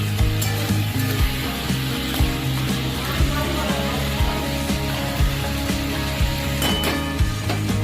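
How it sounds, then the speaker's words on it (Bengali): Cinnamon, bay leaves and a dried red chili are stirred in hot oil for tempering, with a soft sizzle and scattered spatula knocks under a steady kitchen hum. "এই ফোড়ন দিয়ে একটু নেড়ে নিচ্ছি"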